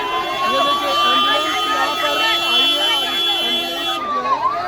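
An ambulance siren wails steadily beneath a crowd at a protest at Jantar Mantar, its tone sliding slowly up and down while many people talk and shout over it.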